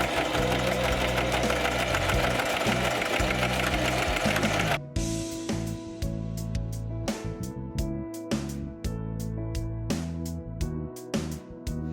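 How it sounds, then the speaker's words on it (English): Sewing machine stitching long fur pieces for slim indoor feet paws, a continuous rapid mechanical whir for several seconds, then stop-start bursts of rhythmic needle clatter, close and loud, with no talk. "It's time to sew them together on the machine."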